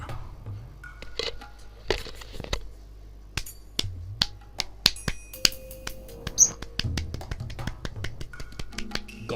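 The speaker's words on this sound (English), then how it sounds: "Golf clap." A sparse golf-clap sound effect from the visual novel game Higurashi Meakashi: scattered light, crisp claps and taps, irregular and thin, as if only a handful of people were politely clapping.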